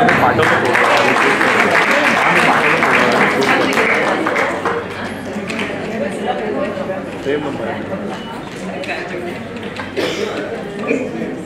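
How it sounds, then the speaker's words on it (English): An audience at an award ceremony applauds, a dense, loud spatter of clapping that thins a little midway and then carries on steadily, with some voices mixed in. "Ladies and gentlemen, can we please clap?"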